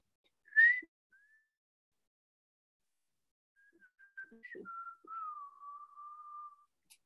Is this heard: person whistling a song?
yes